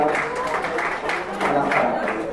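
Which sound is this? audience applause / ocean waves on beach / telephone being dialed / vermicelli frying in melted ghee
audience applause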